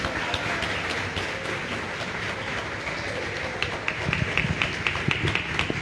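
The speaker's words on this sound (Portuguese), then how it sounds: "Você pode aplaudir o Senhor Jesus?" A church congregation at a Foursquare chapel anniversary celebration applauding, dense continuous clapping from many hands with a few sharper claps standing out toward the end, steady and fairly loud.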